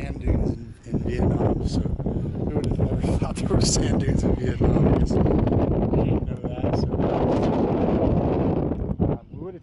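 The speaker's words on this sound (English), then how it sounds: "it was so windy and it was just, we were getting pelted with sand" Strong wind gusts batter the microphone on sand dunes at Mui Ne in Vietnam, a loud rumbling buffeting that continues almost without pause, with a person talking through it.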